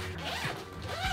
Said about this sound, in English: You can zip that up.